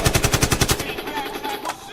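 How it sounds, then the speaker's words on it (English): Burst of automatic gunfire added as a podcast sound effect, quick rhythmic shots for under a second that give way to a lingering tail and faint background murmur. "You should get gunshots for that one, man."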